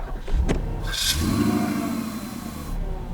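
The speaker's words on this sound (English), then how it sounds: "Let's have a little listen to this V8 in the Porsche Cayenne. So, start it up." A Porsche Cayenne V8 cranks briefly and fires up loud and close, the starter whine giving way to a quick rev before settling into a steady, even idle rumble.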